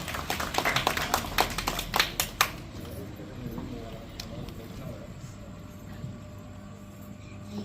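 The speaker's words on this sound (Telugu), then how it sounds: "క్లాప్స్ కొట్టండి." An audience at a Women's Day gathering claps in a brief burst of sharp hand claps at the start, which quickly fades into quieter room noise.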